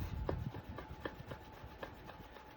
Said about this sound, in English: I'm actually using my thumb, a little bit of nail that I have, to scrape this off.